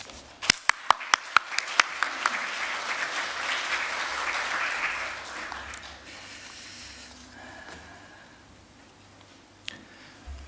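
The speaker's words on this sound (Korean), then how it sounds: "우리 하나님 감사의 박수 올려드리면서" A church congregation at a Korean church in Melbourne breaks into applause. A few sharp, distinct claps come first, then a dense wash of clapping swells and gradually fades, with one stray clap near the end.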